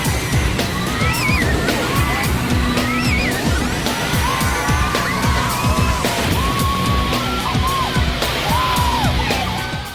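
Boat on a water drop ride at a theme park splashing through a large pool of water, loud continuous sloshing and rushing with riders shouting and squealing over it for the full ten seconds.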